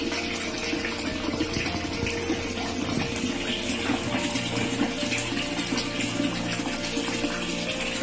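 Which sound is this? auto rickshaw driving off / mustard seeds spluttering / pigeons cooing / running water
running water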